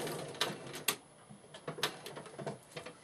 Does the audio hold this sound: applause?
no